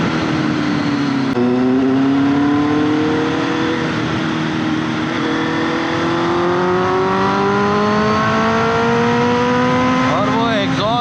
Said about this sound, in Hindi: और वो एग्जॉस्ट नोट